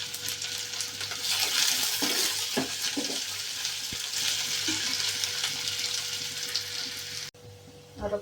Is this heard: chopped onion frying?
yes